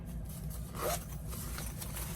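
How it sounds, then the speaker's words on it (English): A small zipper on the storage bag for a Primus OmniFuel stove is pulled in one quick rasping stroke, faint against steady background hiss. "It's got a little zipper in here"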